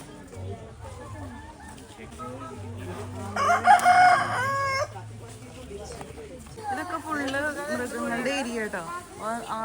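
Chickens cluck and a rooster crows in the background while a person talks over them outdoors at an agricultural theme park.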